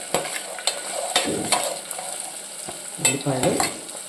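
Onions sizzle in a hot pan while being stirred for a Rayalaseema-style bean curry, with a steady frying hiss and sharp scraping and clinking strokes of a spoon.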